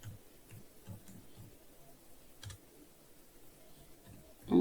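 Typing on a computer keyboard at an office desk, faint scattered key clicks in short irregular bursts, quiet and close.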